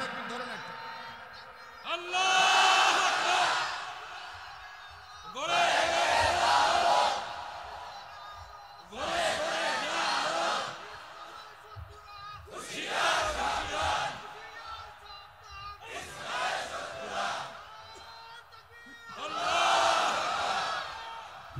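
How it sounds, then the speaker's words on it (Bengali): A crowd chants the takbir slogan "Nara-e-Takbir" at a Bengali religious sermon gathering, sounding six loud massed shouts in a steady call-and-response rhythm with brief pauses between bursts. "তাহলে একটা তাকবীর দেন, একজনে নারা তাকবীর, নারা তাকবীর ধরেন একটা"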